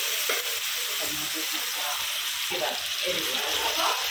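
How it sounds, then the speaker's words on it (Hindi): Ginger, garlic and tomato frying together in a pan, giving a steady close sizzle with faint stirring scrapes and clinks running through it. "अभी अदरक लहसुन टमाटर एक साथ भूनेंगे, इसकी कच्चापन जाने तक भूनेंगे अच्छे से।"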